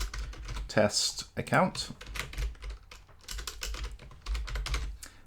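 Rapid clicking keystrokes on a computer keyboard enter Gmail business account details in dense bursts close to the mic, with a voice speaking briefly over the start.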